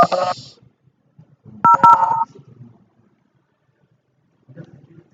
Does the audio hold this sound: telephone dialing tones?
yes